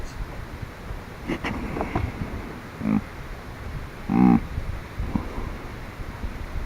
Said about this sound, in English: He ends up snort wheezing and grunting at these other bucks